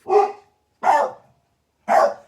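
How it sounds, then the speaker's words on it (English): A large fluffy wolf-like dog barks three times indoors, each bark loud and close with a clear pause between them, and no one speaks. "She doesn't even know what she's barking at."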